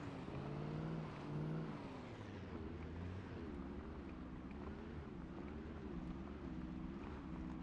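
A car drives in the zombie survival game Project Zomboid, with a steady, low engine drone whose pitch rises and dips slightly while wind-like noise runs underneath throughout.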